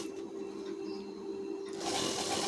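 A sewing machine stitches along the edge of a strip on a blouse, a steady close mechanical whir running alone without talk, rising into a brighter, louder run near the end.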